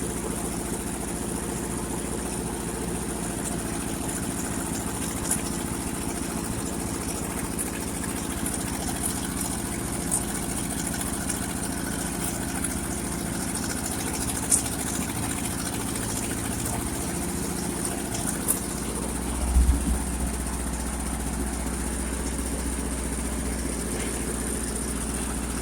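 A 1958 Ford 851 tractor engine idles steadily with a low, even rumble that holds for the whole stretch, close and continuous, with a faint knock or two and no talk.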